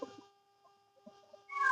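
A cat meows a few short times, faint and somewhat distant, with a louder, higher cry rising at the very end.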